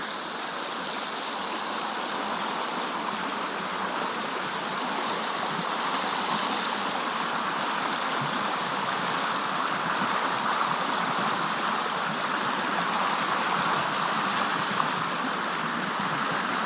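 Water rushes steadily over rocks in a stream, a constant, full hiss and burble close by with no pauses.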